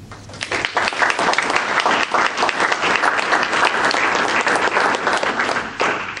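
A workshop audience gives the afternoon panel sustained, full applause that stays dense and loud throughout, with a crowd of many hands clapping close by.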